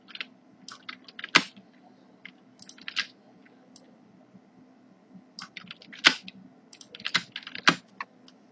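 Typing on a computer keyboard while filling in variables for a template: irregular bursts of close, crisp key clicks with short pauses and a few louder, sharper key strikes, with no talking.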